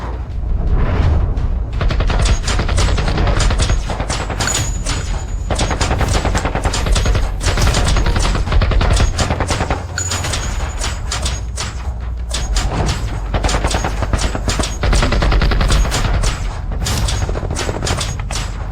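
Sustained rapid gunfire rattles nonstop as bullets strike a fighter's muscles, loud and dense bursts like a machine gun with heavy booming impacts throughout.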